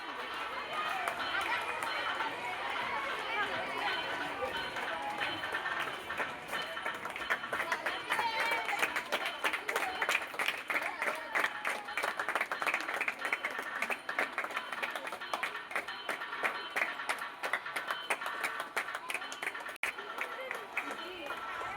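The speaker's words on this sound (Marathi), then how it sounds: "टाळ्या वाजवा।" Students clapping in a college gathering, a dense, steady stretch of hand claps and crowd noise running the whole time, mixed with chatter and voices.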